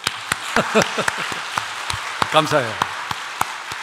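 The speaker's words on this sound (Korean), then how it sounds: "박수 한번 쳐줘요, 이 사람들." A church congregation gives a round of applause during a Sunday worship service, steady clapping with scattered sharp claps throughout, while a voice speaks briefly over it.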